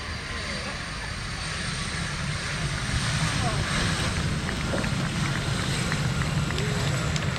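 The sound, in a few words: Messerschmitt Me-262 jet aircraft flying at RIAT airshow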